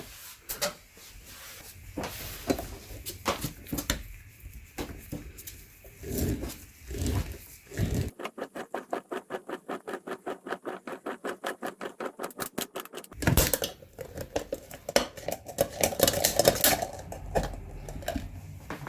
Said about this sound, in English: let's open this filter up and see what it looks like